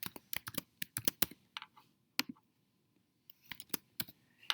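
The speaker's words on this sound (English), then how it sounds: "I'm going to type in the function exactly as it looks on my paper here." Rapid clattering keystrokes as an equation is entered into an online graphing calculator, arriving in uneven bursts with a short quiet gap midway, close and fairly soft, with no voices.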